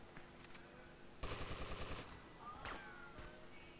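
Gunshots in Grand Theft Auto: Vice City gameplay form a rapid automatic burst of evenly spaced shots lasting under a second. A couple of scattered single pops come before and after it, all fairly quiet and with no talk over them.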